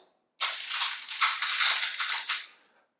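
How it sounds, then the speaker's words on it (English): A hand plunged into a bowl of peanut M&M's, a close, dense rattling crunch of hard-shelled candies shifting and clattering against each other for about two seconds. "with my hand, like just put it right into the peanut M&M bowl"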